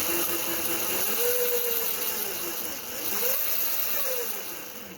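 Small engine on a home-built go kart revving up and easing off twice under the throttle, a rising and falling drone with no talk over it.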